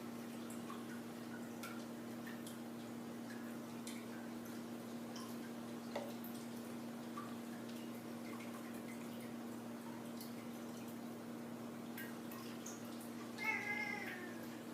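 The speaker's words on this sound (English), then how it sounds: "That's my cat, Apollo, who is looking for some attention." A pet cat named Apollo gives a short, faint meow near the end, heard over a steady low hum and a few soft ticks in an otherwise quiet room.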